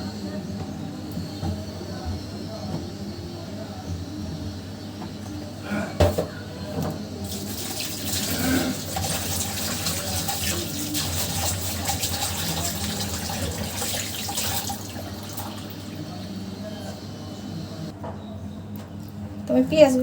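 Rice being washed under a running kitchen tap for a beef curry and pulao meal, a steady hiss of water splashing into a bowl or sink throughout, with handling noises and some talk over it.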